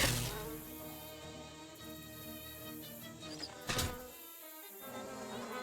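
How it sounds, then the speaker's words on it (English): Buzzing bees in the video game Shadows Over Loathing, a steady droning insect swarm under layered game music and effects, with a brief sharp hit near the middle. "No, the bees!"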